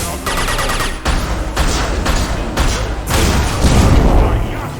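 Gunfire in a Mass Effect 2 firefight arrives in loud, rapid bursts separated by brief gaps, with a roaring battle din between them and voices mixed in.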